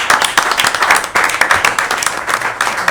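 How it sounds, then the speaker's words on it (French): Applause breaks out during a municipal council meeting, a steady patter of clapping hands from the room with a few faint voices mixed in underneath. "Donc, on peut l'applaudir."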